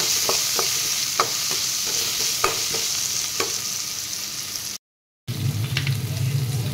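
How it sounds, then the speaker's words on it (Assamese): Onions fry in hot oil for a fish curry, a loud continuous sizzle with scattered stirring clicks and scrapes, cut by a brief dropout before the crackling frying resumes more intensely. "এতিয়া সেই তেলতে মই এয়া পিঁয়াজখিনি দি দিছোঁ"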